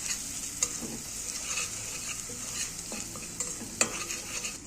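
Garlic and dried coriander fry in hot ghee, a steady close sizzle with scattered pops and crackles of stirring throughout, no talk.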